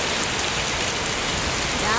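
Heavy rain pours down in a constant, dense hiss, evenly loud and close, with no voices on top.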